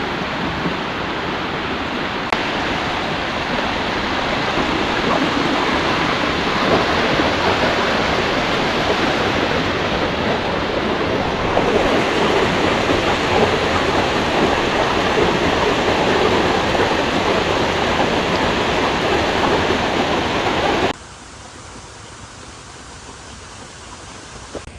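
Cold river water rushes over rocks at Belihuloya, a dense, loud, continuous roar that drops abruptly to a quieter level near the end.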